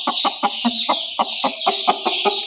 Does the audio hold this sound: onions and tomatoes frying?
no